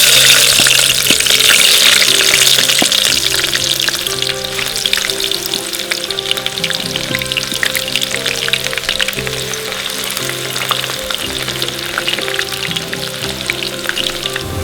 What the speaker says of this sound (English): First we put there our onions.